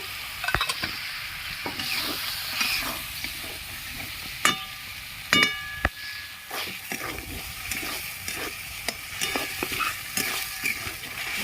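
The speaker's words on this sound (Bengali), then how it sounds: "ভালো করে কষিয়ে নেব" Chana dal with young jackfruit, a little water and sugar, stir-fried in a pan: a constant sizzle broken by sharp, irregular spatula scrapes and clicks against the metal, with no one talking.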